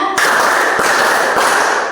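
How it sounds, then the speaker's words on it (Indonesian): Hands clap five times in quick succession, close and loud, the sharp claps smearing together into a dense burst over about two seconds. "Tepuk 1, tepuk 2, tepuk 3, tepuk 4, tepuk 5."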